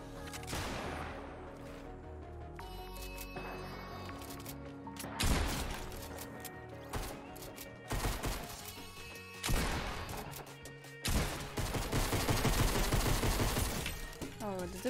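Gunfire in a shooter video game: bursts of pistol shots with sharp crashes and impacts, loud and dense through most of the stretch, several clustered volleys separated by brief lulls.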